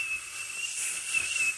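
A person imitates whistling with their mouth, producing a thin, steady, high whistle wrapped in breathy hiss that holds for under two seconds with a slight swell near the end.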